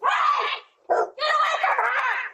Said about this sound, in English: I saw the dogs attacking the girl